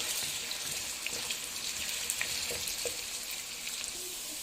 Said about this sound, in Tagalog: Prito muna natin yung ating patatas guys at saka yung ating carrots.